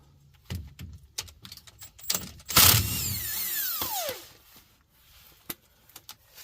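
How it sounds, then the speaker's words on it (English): Removing bolts from a Dana 70 Power-Lok axle with a 14 mm socket: scattered metallic clicks and clanks of socket and tools, a loud burst of ratcheting or spinning near the middle with a falling whine, then sparse taps, close by. "Starting out by using our 14 mil socket, removing the bolts."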